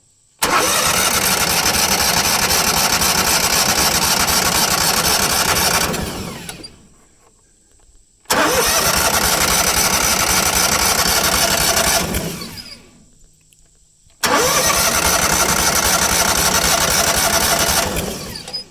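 A small gas engine on a mud pump starts up loud and close and roars steadily for several seconds, dies away, and then starts again twice more. The same abrupt startup and running come three times, separated by short quiet gaps.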